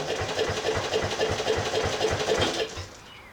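A 1968 Bolens EK-10 Estate Keeper garden tractor engine runs with a steady, rapid chugging pulse for nearly three seconds, loud and close, then drops off sharply as it dies down or throttles back.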